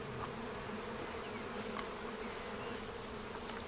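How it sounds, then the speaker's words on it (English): Honeybees shaken onto a plastic sheet fill the air with a dense, continuous buzzing hum, many insects together at close range, steady and fairly quiet with no voices. "the bees are shaken onto a sheet of plastic"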